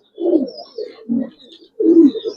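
Silver Giribaz pigeons cooing close by in a pen, three soft throaty bursts of coos with short pauses between, no talking over them.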